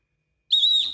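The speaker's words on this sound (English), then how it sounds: "this is her little release whistle" A single sharp, high-pitched dog release whistle blast after a moment of silence, held steadily for about half a second before fading.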